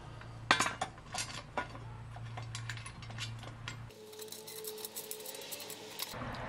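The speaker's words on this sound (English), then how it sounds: "I'm going to put a pair of washers behind the plate to give it a nice even surface here." Metal washers and bolts are fitted to a motor mounting plate for an electric tractor, giving a run of close, sharp ratcheting clicks and small metallic clinks, with a steady hum in the background and no talk.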